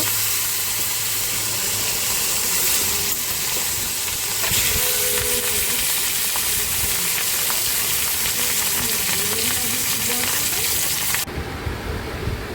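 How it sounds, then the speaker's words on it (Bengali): Fish sizzle loudly and steadily in hot oil for a Bengali fish curry, a dense, continuous frying hiss heard up close that changes tone abruptly near the end. "এবার গরম তেলে আমি মাছগুলো একটু ভেজে নিচ্ছি"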